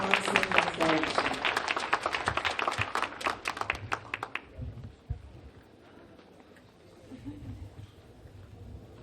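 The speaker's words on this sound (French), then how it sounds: "On applaudit KMS Dance Studio and their constant direction." An audience at a Haitian Heritage Month kick-off event applauds a dance studio with loud, rapid clapping for about four seconds. The clapping then stops abruptly, leaving quieter room noise with faint murmuring.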